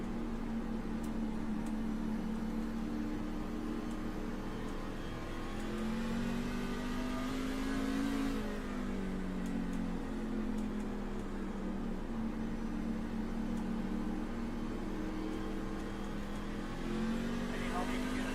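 Truck engine in a racing video game at North Wilkesboro, held on throttle down the straightaway, a sustained droning rev with slight pitch rises and dips that stays loud and close throughout.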